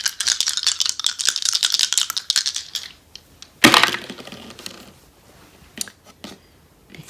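Dice rattling and clattering for an astrology reading, a busy burst of rapid hard clicks for a few seconds, then a sharp loud tumble and a few scattered taps fading out.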